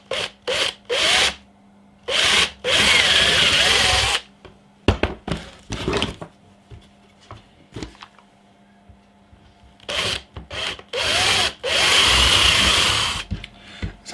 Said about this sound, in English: Just marked out where I want the holes for the machine head, so I'm going to drill those now.